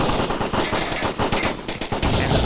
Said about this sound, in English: there's just a lot of gunfire here